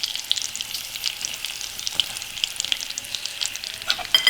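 Spice masala hits hot oil with dried red chilli and greens, giving a bright, crackling sizzle with sharp popping spatters that continue close and lively.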